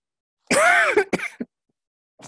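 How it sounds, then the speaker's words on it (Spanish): A single harsh cough burst followed by a couple of shorter coughs, close and loud, then a brief faint throat sound after a pause. "perdón por la tos"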